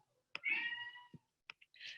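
A pet cat gives a drawn-out meow followed by a couple of shorter, faint chirping mews in an otherwise quiet room, with no talking.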